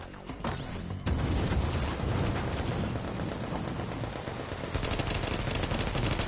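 Gunfire and a grenade blast in a first-person shooter match, with dense rapid automatic fire and heavy booming impacts running steadily throughout, loud and close.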